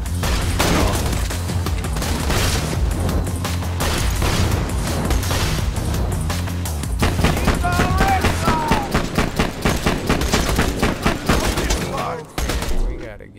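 Sustained automatic gunfire from the video game Borderlands 2, loud, dense bursts rattling continuously over about thirteen seconds with explosions mixed in, and a voice talking over it.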